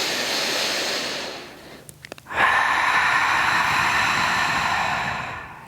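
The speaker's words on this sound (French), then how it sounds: "On inspire par le nez, on gonfle le ventre. On expire par la bouche." A deep inhale through the nose builds slowly, a few faint clicks follow, then a long full exhale through the mouth, close and breathy, with no talking over it.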